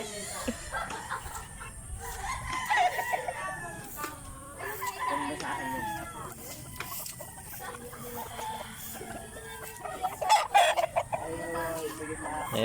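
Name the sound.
roosters crowing and chickens clucking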